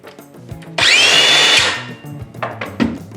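A Makita DSS610 18V cordless circular saw whirs up loudly for under a second of high, steady whine, then spins down, with brief mechanical clicks before and after.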